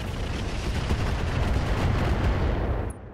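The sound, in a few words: Dervish mech weapons firing on a Hatchetman, video game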